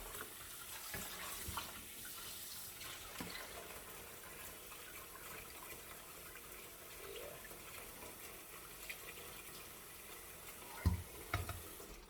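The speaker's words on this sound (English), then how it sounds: "So I'm going to throw off this water." Water poured off freshly cleaned red snapper in a kitchen during Jamaican-style cooking prep, a steady running, splashing stream that lasts throughout, with a couple of sharper splashes near the end.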